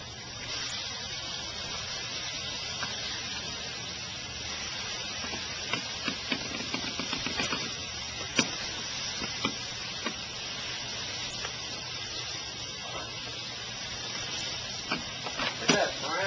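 Burgers and bacon on a stainless DCS Liberty gas grill produce a constant hissing sizzle, fairly quiet and even throughout, dotted with occasional small pops and crackles.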